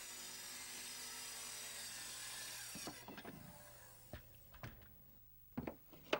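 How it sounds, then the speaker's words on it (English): A board of 3/4-inch stock being sawn into a stair riser along a straight guide board, a steady near cutting drone for about three seconds, then scattered knocks and clatters from the wood and tools. "And here's a riser being cut."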